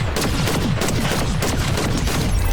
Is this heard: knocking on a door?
no